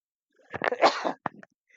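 A single sneeze, close and fairly loud: a quick sharp inhale, a burst, then a brief trailing catch of breath, with no talk.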